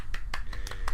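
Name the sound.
applause for a podcast donor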